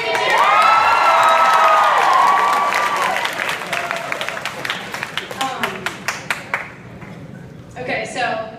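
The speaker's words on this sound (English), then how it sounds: "we can cheer" A large crowd at a dance marathon cheers and whoops loudly, then breaks into sustained rhythmic clapping that thins and fades toward the end, with scattered shouts over it.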